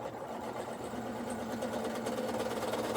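A PFAFF Creative Ambition 640 sewing machine free-motion stitching runs steadily, with a fast, even mechanical whir and rattle, close and fairly quiet, running low on bobbin thread.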